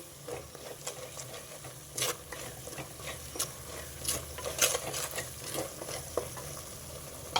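A spoon stirs and scrapes masala through a pan of fish curry, making soft irregular scrapes with a few sharper knocks over a steady low sizzle, close by with no talking.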